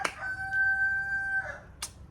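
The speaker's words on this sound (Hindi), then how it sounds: "ये मुर्गी।" A rooster crows once, close by: a single clear, drawn-out call of just over a second, with short faint sounds before and after.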